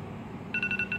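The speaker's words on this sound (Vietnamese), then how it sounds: "Hẹn giờ kết thúc." A timer alarm beeps in short, evenly spaced electronic pulses that come in halfway through, close and clear over a quiet room.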